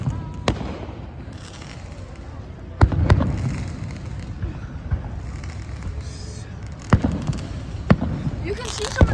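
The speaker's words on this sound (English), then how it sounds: "You can see some of the fireworks" Fifth of July fireworks going off at a distance, a handful of sharp pops and booms spaced out over low background rumble, with voices talking nearby.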